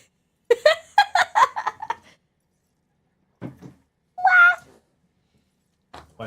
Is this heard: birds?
no